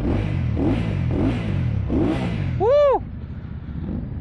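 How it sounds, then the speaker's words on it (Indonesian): A Keeway Benda Napoleon 500 motorcycle engine revs close by in repeated throaty surges through its exhaust, followed by a brief high whistling chirp that rises and falls. "Wih, dengerin suara knalpotnya coy."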